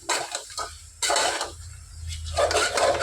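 Ginger garlic paste with turmeric frying in a pan for mutton curry, heard as bursts of stirring and scraping against the pan with a soft sizzle between strokes, close and moderately loud.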